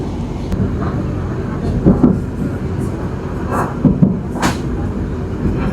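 The KA Pangrango economy train rumbles steadily between Sukabumi and Cisaat at about 55 km per hour, a continuous loud rolling noise with faint periodic rail clicks, heard from on board.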